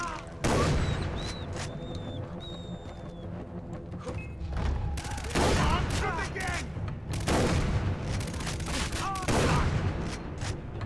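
Repeated gunfire in the video game Far Cry 3, loud bursts of shots and heavy booms in rapid clusters with brief lulls between, mixed with other game effects and occasional voices.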